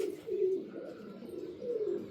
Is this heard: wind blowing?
no